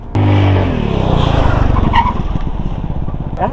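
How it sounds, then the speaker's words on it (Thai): A scooter brakes hard with front and rear brakes applied together at a safety riding event, giving a loud tire skid that starts abruptly and scrubs on for about three seconds. "นี่ก็เป็นการสาธิตเบรกใช้เบรกหน้าเบรกหลังพร้อมกันนะครับ"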